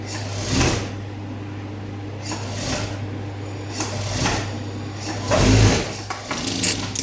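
A sewing machine runs in short bursts while stitching blouse sleeves, each run a rapid whirring chatter with brief pauses between, close by and with no talking.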